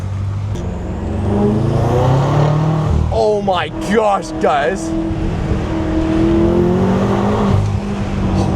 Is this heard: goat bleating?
no